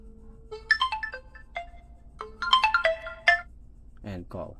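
A C39 Ultra 2 smartwatch plays its incoming call ringtone, a bright electronic melody of quick rising and falling tones repeated twice, close and clear, with a brief voice at the end.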